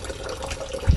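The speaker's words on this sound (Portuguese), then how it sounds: "Cai no balde, ó." Water draining from a washing tub and falling into a bucket, a close steady splashing trickle that ends with a heavier thump.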